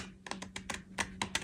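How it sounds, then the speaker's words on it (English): Scissors snip paper garden-plan sheets, a quick series of about eight crisp close cuts in an uneven rhythm over a faint hum. "So I just use scissors on this one"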